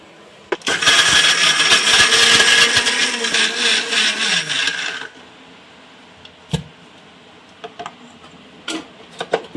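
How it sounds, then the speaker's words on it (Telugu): A kitchen mixie grinds a spiced mixture for a palak paneer egg gravy, a loud whirring burst of about four seconds that winds down, followed by a few faint clicks and knocks. "మిశ్రమాన్ని మిక్సీకి వేసుకోవాలి ఫ్రెండ్స్"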